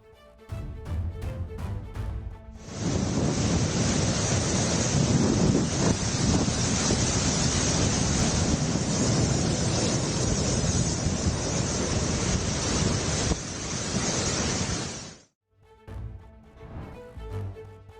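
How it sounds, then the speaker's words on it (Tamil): Loud, roaring cyclone wind buffets the microphone over crashing rough sea surf, a continuous rough roar that cuts off abruptly near the end. "பலத்த காற்று வீசுவதால் கடல் கொந்தளிப்புடன் காணப்படுகிறது"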